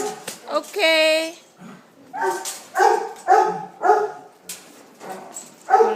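Several male puppies bark and yip in short, close bursts indoors, with a brief higher whimper early on and someone talking to them in between.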